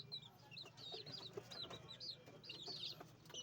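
Baby chicks about eleven days old, Raptor Sweater breed, cheep in a rapid stream of thin, high peeps, faint and close, with soft clucking underneath and no clear talk.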